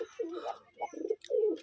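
A pair of Rajshahi gereba pigeons coo close by, several low, throaty rolling coos in quick succession with brief gaps between.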